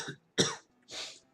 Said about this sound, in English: Coughing interruption, count that.